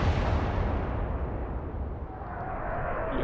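The battleship Bismarck's main guns fire in the naval video game Atlantic Fleet, a loud, broad rumbling blast that decays slowly across a few seconds with no talk over it.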